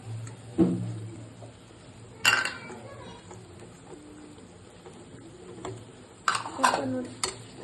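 Tomatoes go into a pan of sautéing onions and are stirred, giving a few sharp clinks and scrapes of a utensil against the pan over a faint low sizzle, with quiet talk.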